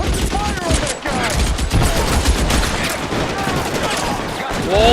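Dense video-game gunfire from L.A. Noire, loud and continuous with rapid overlapping shots and bursts across the whole stretch, with voices shouting beneath the firefight.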